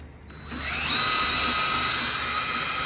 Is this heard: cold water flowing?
no